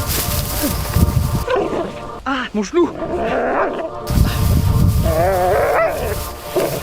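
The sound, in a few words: police dog barking and biting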